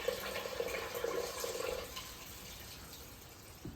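Water leaking through a bowed, sagging bedroom ceiling in a derelict house under renovation, a close, steady trickle and splash with faint dripping, louder in the first two seconds and then softer, with no talking.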